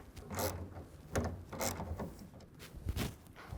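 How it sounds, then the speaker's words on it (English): A ratchet or wrench tightening a rail bolt on a BAKFlip MX4 hard folding tonneau cover on a Mitsubishi Triton, heard as a few faint, close mechanical clicks in short bursts. "And then tighten down with that 1/2 inch wrench or ratchet."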